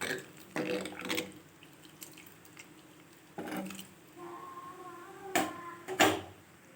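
Water is poured into a simmering bitter gourd kuzhambu in a kitchen, heard as gurgling, splashing bursts with clinks and stirring, moderately close, with a few quiet gaps between pours.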